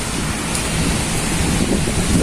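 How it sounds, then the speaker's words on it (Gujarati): Dense, steady roar of heavy rain mixed with gusting wind buffeting the microphone in Rajkot, loud and unbroken throughout. "ફૂલ વરસાદ ચાલુ છે અત્યારે"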